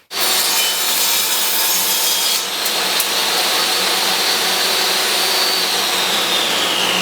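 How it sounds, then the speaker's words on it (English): A table saw crosscuts the end of a wooden butcher block held against a miter gauge, a loud, steady blade whine and rasp running for about seven seconds with a brief shift partway through as the cut goes on, with no voices. "take my miter gauge and square off the ends"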